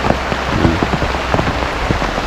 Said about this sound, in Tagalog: Nabot na tayo ng ulan dito.